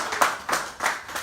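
An audience claps at a live women's-hour event: a short burst of rhythmic hand claps, about four strong beats, fairly close and clear, with no one talking over it.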